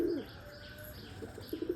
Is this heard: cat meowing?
no